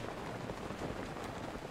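Steady rain in Zelda: Breath of the Wild, a soft, even hiss of falling drops with no voices, faint and unbroken throughout.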